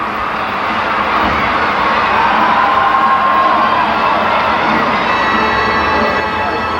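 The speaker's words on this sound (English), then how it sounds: "And the crowd has to be helping this American team as well. Listen to the crowd." A large arena crowd cheers and shouts continuously at a women's team gymnastics world championship, loud and sustained, with higher whoops and children's voices rising through the din.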